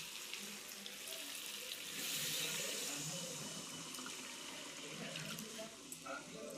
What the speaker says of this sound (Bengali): জলটা দিয়ে দিই